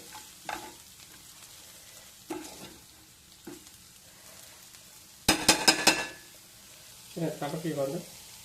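Garlic-chili paste fries in oil in a pan, heard mostly as a brief burst of sizzling with metal spoon clinks from stirring, amid otherwise quiet kitchen sounds and a short voice-like tone.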